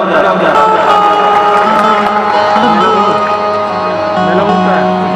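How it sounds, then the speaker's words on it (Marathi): An audience at a poetry and song performance breaks into loud applause and cheering, with whoops and shouts over continuous clapping, close and strong throughout. "जोरदार टाळ्या होऊन जाऊ द्या"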